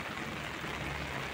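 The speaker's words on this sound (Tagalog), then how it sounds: "Malakas pa rin ang ulan" Heavy rain pours down in Hong Kong during stormy weather, a steady, dense, close hiss that holds without a break throughout and has no voices over it.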